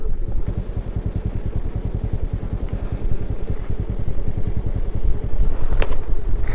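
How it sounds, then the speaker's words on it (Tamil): A vehicle approaching on a road, a steady rumbling engine drone that slowly grows louder over several seconds, heard from a scooter on the way to the 3 Idiots shooting spot. "வண்டி வருது."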